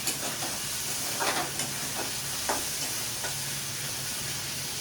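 Masala sizzling and being stirred in a pan for palak kofta curry, a dense crackling fry with occasional scraping stirs of the spoon, close and steady without speech.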